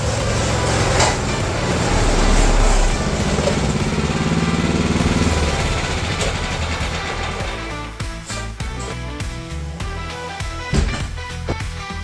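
A riding lawn mower engine with a homemade scrap-metal exhaust and a Temu muffler, running loud and steady with a buzzing drone that eases into a lower, choppier putter near the end.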